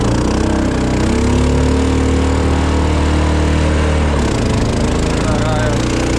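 A Muravey motor scooter's small engine runs loud and close with a buzzing, droning tone that shifts pitch as it rolls along, with wind and road noise over it and a voice talking at times.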